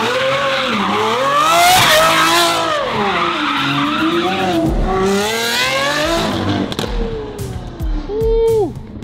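Lamborghini Aventador SVJ, sharp and close, with loud rising and falling engine revs and a squealing, skidding tone, ending in a brief high whine.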